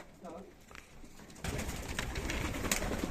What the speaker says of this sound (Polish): Siedzą gołębie w cerach.